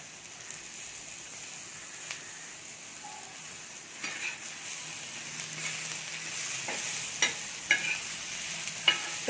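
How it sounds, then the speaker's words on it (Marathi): Tomatoes frying and being stirred in a pan while cooking an egg omelette dish, with a steady soft sizzle broken by occasional light clinks and scrapes of a spoon, close and fairly quiet, no talking. "आता आपण टोमॅटो टाकून घेऊया।"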